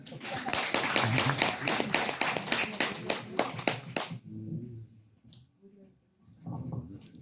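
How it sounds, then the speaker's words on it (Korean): Loud audience applause at a Korean health talk on barefoot walking, a dense burst of many hands clapping for about four seconds that then stops abruptly, followed by quiet and brief talk from a speaker. "큰 박수 부탁드립니다."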